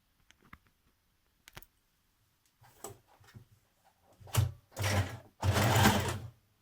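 A sewing machine joins the waistband side seams of a Burda 6246 sweatshirt, starting with a few faint clicks and short runs, then building to several loud, close bursts of fast stitching with brief pauses between them.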